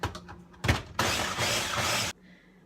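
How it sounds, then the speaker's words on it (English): A food processor strains to blend a stiff pastry dough of butter, egg and ice-cold water, giving a few clattering jolts before a loud, rough motor whir grinds for about a second and cuts off abruptly. "My dough is having a hard time with the food processor"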